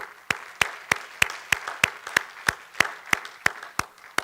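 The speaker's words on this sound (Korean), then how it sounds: "하나님께 영광의 박수." Rhythmic, unison clapping from a church congregation, evenly spaced sharp claps about every third of a second, moderately loud and steady with no voices over it.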